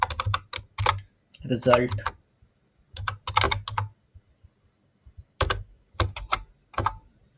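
JavaScript code being typed on a computer keyboard in several rapid clusters of crisp, close keystrokes separated by brief pauses, with a short bit of speech in between.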